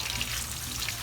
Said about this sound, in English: So just be frying 3 at a time.